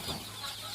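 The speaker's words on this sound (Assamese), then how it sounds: "এইবিলাকো হ'ল লোকেল মুৰ্গীৰ পোৱালি" Young local chicken chicks in a brooding pen, with brief soft clucking and peeping close by, nobody talking.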